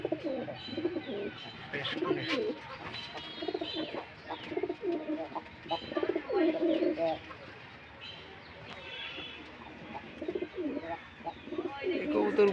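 Pigeons kept together with chickens coo repeatedly in soft, rolling phrases, with some chirps mixed in, while a person talks briefly over them in a close, busy coop.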